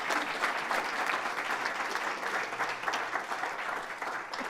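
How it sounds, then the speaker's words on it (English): Steady applause from an audience at a small-business pitch competition, following a finished pitch; dense continuous clapping that stays even and loud throughout, with no clear speech over it. "Round of applause."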